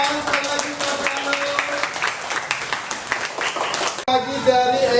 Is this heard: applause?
yes